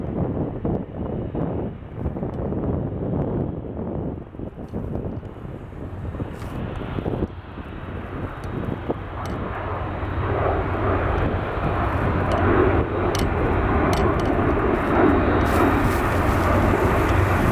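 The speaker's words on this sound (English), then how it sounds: "we got an ERJ 175 departing" An Embraer ERJ 175 jet airliner departs at Portland airport, its engine roar building from a rough, wind-buffeted rumble to a loud, sustained whine with no talking over it.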